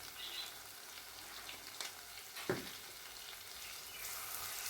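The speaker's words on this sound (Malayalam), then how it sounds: "ഇനി പൊടിയുടെ പച്ചമണം എല്ലാം മാറുന്നതുവരെ നല്ലതുപോലെ ഒന്ന് വഴറ്റി കൊടുക്കാം" Chilli and coriander powders sautéing in a pan for a Kerala-style sardine curry, giving a soft, steady sizzle with a few faint scraping stirs, quiet and continuous with no talking.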